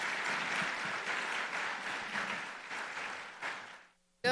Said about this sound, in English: Let's applaud her as she comes to encourage us today.